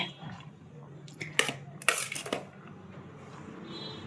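Dishes and cutlery clink while rice is served after cooking: a few scattered clatters and two brighter metallic knocks in the middle of the clip, close by and fairly quiet, with no talking.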